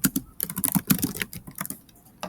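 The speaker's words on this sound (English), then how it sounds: "you type in the brand and the item description" Rapid, uneven clatter of a computer keyboard as inventory details are typed in, close and crisp with short pauses between bursts of keystrokes.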